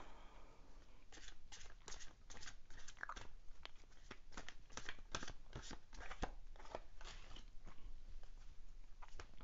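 Tarot cards are shuffled and drawn at close range, giving faint, quick papery riffles and soft slaps that repeat irregularly over a low background hiss.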